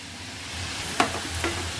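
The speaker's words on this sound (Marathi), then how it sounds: "आता आपल्याला चार पाच मिनटं चांगलं गाजर परतून घ्यायचं आहे तुपावरती" Carrots frying in ghee on medium heat for carrot halwa, a soft steady sizzle with a couple of brief stirring scrapes, close and fairly quiet, no talking.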